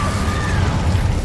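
Incendio fire spell in Hogwarts Legacy gameplay: a short, loud whooshing burst with a crackling, rumbling roar and a faint tonal shimmer, heard close and alone.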